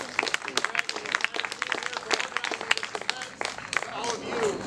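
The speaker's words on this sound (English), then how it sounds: "another round of applause for Sean and Jeff for those fantastic" Crowd applause after speeches at an Ann Arbor public power event, with dense, scattered clapping that stays steady throughout, mixed with a bit of chatter, fairly distant.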